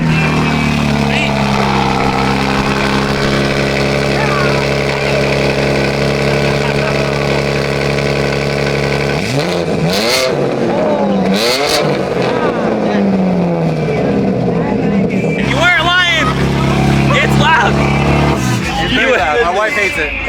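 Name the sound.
car engine starting and idling with straight-pipe exhaust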